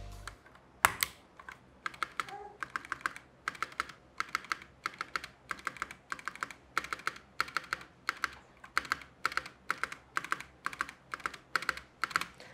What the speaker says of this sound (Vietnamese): Chúng ta sẽ cùng nhau nghe thử cái tiếng stab mà nó mang lại.